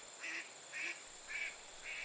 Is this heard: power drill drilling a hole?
no